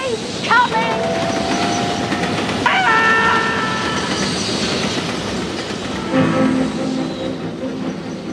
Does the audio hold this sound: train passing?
yes